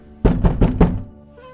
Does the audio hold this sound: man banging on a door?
yes